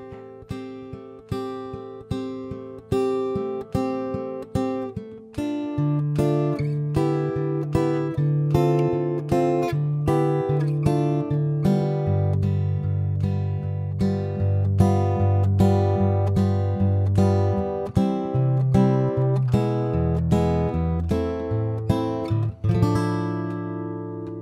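Guitar plays a verse, sustained chords struck steadily one after another with a ringing bass line, played alone without talk.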